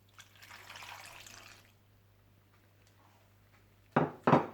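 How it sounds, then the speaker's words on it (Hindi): Milk poured over sliced potatoes for a gratin trickles softly for under two seconds, followed by a quiet pause and two short, louder splashing clatters. "तो सबसे पहले आप आलूओं में डाल लें दूध"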